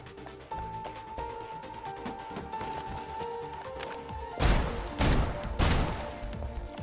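Gunfire in the shooter game Snowbreak: a few loud broadband bursts near the end of the clip stand out over steady game music and ambience, with bursts spaced about half a second to a second apart.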